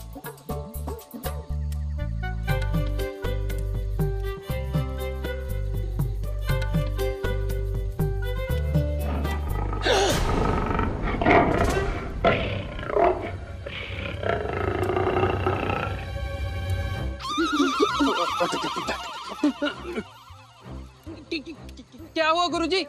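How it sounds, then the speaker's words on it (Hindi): A tiger's roar rises out of music in a staged forest scene, a loud grating burst in the middle section before the music swells again. "सही उत्तर, ये बाघ की ही दहाड़ है।"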